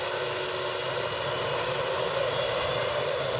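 A Jet2 jet airliner at Manchester Airport sends out a continuous, loud engine roar that holds steady throughout, with no talking over it.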